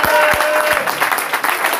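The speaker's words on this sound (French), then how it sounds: "Applaudissons pour notre Seigneur." Congregation applauding during a church service, brief hand-clapping with a few sharp claps near the start, mixed with voices.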